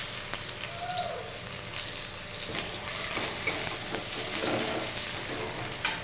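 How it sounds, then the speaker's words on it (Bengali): Nigella seeds and sliced onion frying in the same oil for a bitter gourd mustard curry, a dense, crackling sizzle that holds steady and close, with a light clink or two. "এবার ওই একই তেলের মধ্যে দিয়ে দিচ্ছি আমরা কিছুটা কালো জিরে, দিয়ে দিচ্ছি চেরা পেঁয়াজ"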